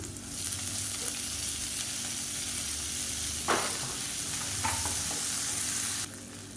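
Chana dal, urad dal, chopped onion, green chilli, curry leaves and coriander fry in oil for varagu rice kolukattai, a continuous close sizzle with a clink of a spoon midway and faint stirring, no talk.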